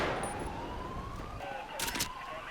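Wailing ambulance siren in GTA 5 with a steady sweeping tone behind a continuous hum of game noise, and a short burst of bright noise partway through.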